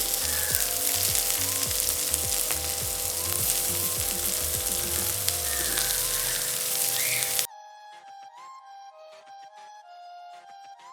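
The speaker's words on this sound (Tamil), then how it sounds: "பச்சை மிளகாய் போடுவோம், கருவேப்பிலை போடுவோம், வெங்காயத்தை போடுவோம்," Green chili, curry leaves and onion frying together in a pan, a loud, steady sizzle for several seconds before it cuts abruptly to music.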